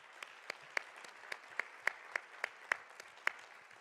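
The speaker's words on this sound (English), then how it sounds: "Please give him a round of applause as we welcome him" A small audience at a conference session gives sparse applause to welcome a speaker, a regular series of distinct, evenly spaced claps, fairly quiet.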